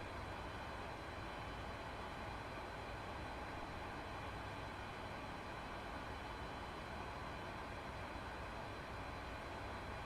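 A Boeing 747-200 jet engine spins up for start in the X-Plane 12 flight simulator, producing a steady, dense roar and whine that holds level throughout with no talking.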